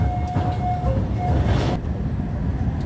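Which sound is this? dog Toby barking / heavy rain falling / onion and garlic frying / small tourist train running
small tourist train running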